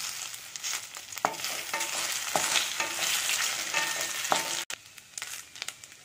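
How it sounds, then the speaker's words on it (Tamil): Pieces of taro root (seppankilangu) fry in oil in a pan, a close, busy sizzle punctuated by several sharp scraping stirs of a spoon, with a momentary cut near the end. "இது ஆயிலில் ஒரு 2 மினிட்ஸ் நல்லா ஃப்ரை ஆகட்டும்."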